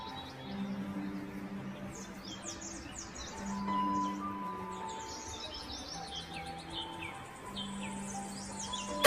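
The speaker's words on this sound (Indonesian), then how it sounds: "Sesekali terdengar kicauan burung, menambah hidup suasana siang ini." Scattered bird chirps and tweets ring out in quick bursts against a quiet rural village background hum at midday, light and intermittent.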